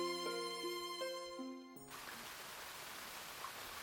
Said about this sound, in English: I can hear the sound of rain.